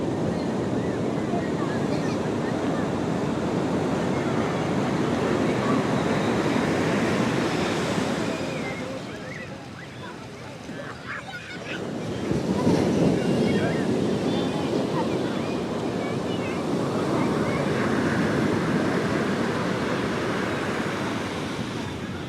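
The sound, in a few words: rough sea waves at Puri beach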